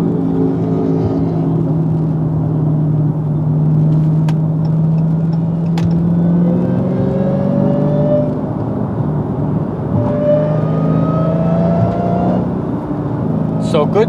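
A manual Dodge Hellcat with a Legmaker intake drives through traffic, its supercharger whine rising and falling in steady sweeps over the engine's low drone, close and continuous throughout, with no talk.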